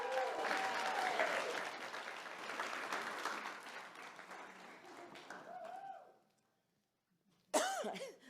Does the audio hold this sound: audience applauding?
yes